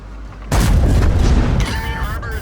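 A T-103 tank gun in a video game fires a high-explosive round, giving one loud, close boom with a rumbling tail that decays over about a second, followed by faint metallic ringing.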